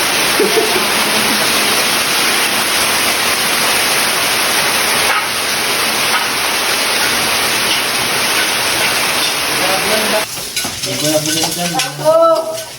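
Loud, steady rush of pouring water fills most of the clip, then fades into clattering and voices near the end.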